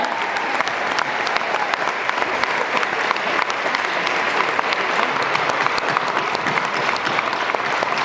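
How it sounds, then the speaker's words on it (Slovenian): A large concert audience claps for young singers, a dense, steady applause that stays loud and even throughout without voices standing out. "močen aplavz za naše mlade pevce"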